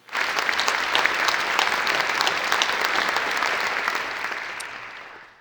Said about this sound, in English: Please join me in a round of applause for their terrific work as well